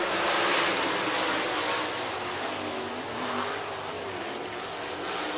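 Race cars roar through a heat race at Southern Raceway in Milton, Florida, a steady, dense wash of engine noise that holds loud and continuous throughout, with no voices.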